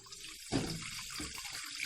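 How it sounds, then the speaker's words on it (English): Water pours from a tap into an idli steamer vessel on a kitchen stove, a steady splashing stream with a brief surge partway through, close and clear. "and add water."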